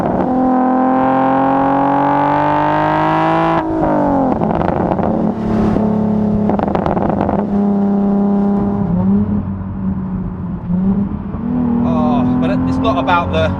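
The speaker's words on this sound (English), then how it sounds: "the sounds of the pops and the bangs as you decelerate" A Nissan 370Z Nismo on Continental Sport Contact 6 tyres revs hard from inside the car, its engine holding a loud, rising drone, then dropping with crackling pops and bangs on deceleration before climbing again, with someone talking over it.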